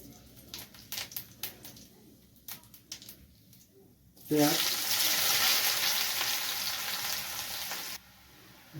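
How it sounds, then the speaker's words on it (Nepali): Cumin seeds hit hot oil in a pan with a sudden loud sizzle that hisses and crackles steadily for a few seconds and then cuts off, after a run of light clinks and taps. "ल जिरा खुराएँ अलिकति"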